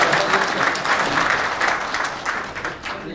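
An audience at a clan association general meeting claps for a guest, the grandson being introduced. The applause is loud and continuous and tapers slightly toward the end, with no speech over it.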